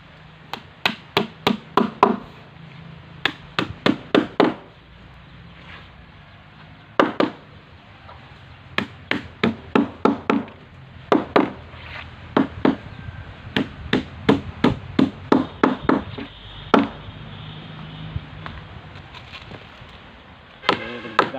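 Nails are hammered into a wooden boat hull in close, sharp, ringing strikes that come in rapid runs of several blows, with short pauses between the bursts.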